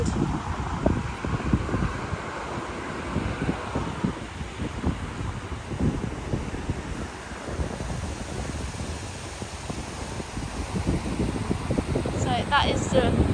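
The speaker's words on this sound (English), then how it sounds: "So that is the whooshing noise you can hear, the waterfalls." Waterfalls roar as a steady, loud whooshing rush heard outdoors near the cascade, with gusty wind buffeting the microphone throughout.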